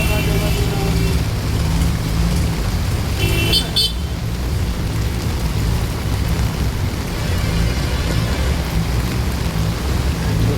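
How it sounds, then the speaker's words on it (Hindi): Heavy rain pours down on a Delhi street with waterlogged shops, a dense, loud, continuous hiss mixed with passing traffic and a brief car horn toot early on. "देखते दिल्ली की बारिश।"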